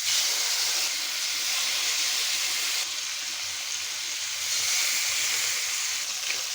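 Fish pieces sizzling one by one in hot oil in a pan for a Bengali fish curry with star fruit, a steady loud hissing crackle throughout with no talking.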